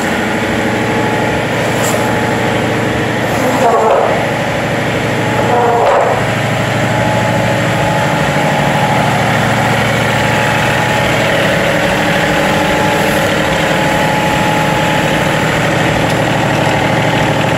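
John Deere 3038E compact tractor engine idling: a steady, loud, close diesel drone that runs unbroken throughout, with a couple of brief knocks early on.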